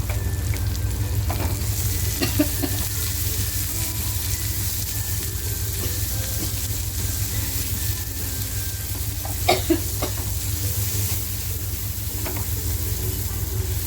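Onion sizzles and fries steadily in hot oil while cooking methi prawns, with occasional scraping stirs and clinks throughout.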